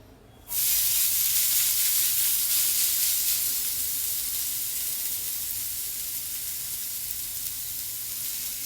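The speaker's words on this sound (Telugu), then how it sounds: "2 స్పూన్ల నెయ్యి కానీ నూనె కానీ వేసుకోండి. ఇప్పుడు ఇందులో బంగాళదుంప తురుము," Grated potato dropped into a hot pan with ghee or oil for rosti bursts into a loud, bright hiss that stays steady and slowly softens over several seconds.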